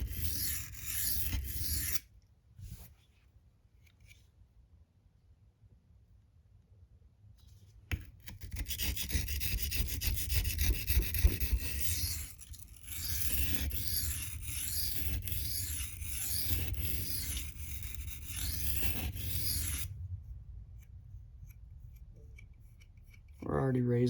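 An M390 steel Manix 2 knife scrapes across a coarse 240 grit stone in long continuous rasping strokes, broken by a few short pauses.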